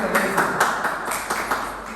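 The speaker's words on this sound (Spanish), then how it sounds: "Aplausos" Audience clapping in a lecture hall, a steady patter of many hands at moderate level with faint murmur underneath, continuing evenly without a break.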